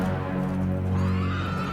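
A horse in the video game Diablo IV lets out a loud, sustained whinny, a single drawn-out neigh with a rising wavering tail, heard close and alone.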